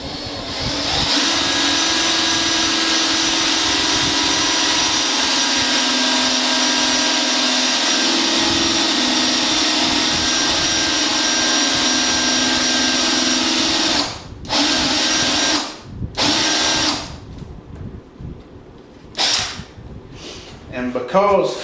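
A handheld power drill runs loud and steady while boring out the center hole of a wooden Square Foot Gardening planting guide, then cuts off into several short stop-start bursts.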